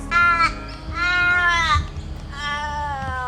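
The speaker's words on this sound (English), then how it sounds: "Really loud birds." Loud, harsh bird calls close by, three drawn-out nasal cries in a row, each wavering and croaking like a crow's caw.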